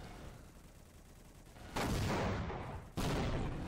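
Rockets fire at tanks in a Garry's Mod battle between War of the Worlds alien tripods and tank waves: two loud, abrupt blasts about a second apart, each leaving a sustained roaring wash after a quieter rumble.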